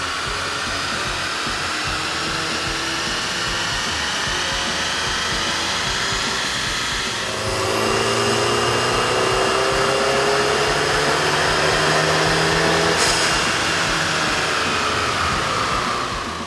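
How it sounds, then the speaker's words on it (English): Audi A3 2.0L engine fitted with a K&N air intake runs on a dyno, a loud steady broadband roar that swells in intensity midway with a rising engine tone, continuous throughout with no talk. "With the air intake installed, we ran the vehicle on the dyno to test the sound comparison versus the stock intake."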